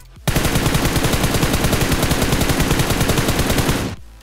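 Automatic gunfire in PUBG Mobile, a loud, unbroken burst of rapid shots lasting nearly four seconds that starts and stops abruptly.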